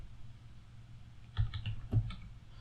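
A few quick keystrokes on a computer keyboard, a short cluster of light clicks close by over a low steady hum, no voices.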